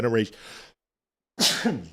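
A single sudden sneeze from a man, a short bright burst of breath following a brief pause after speech.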